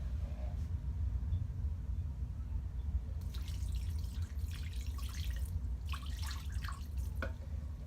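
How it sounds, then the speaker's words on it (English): Water trickling and dripping from a tap into sourdough starter in a bowl at home, a few seconds of light splashing streams over a steady low background hum. "Now I'm going to add just a little bit of water to that."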